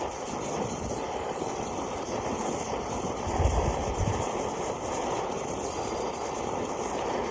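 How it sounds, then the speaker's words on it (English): A multifuel emergency stove burner jets steadily as its fuel tube heats, a continuous broad roaring hiss close by that swells briefly midway, with no talking. "Now you can start to hear it jet properly"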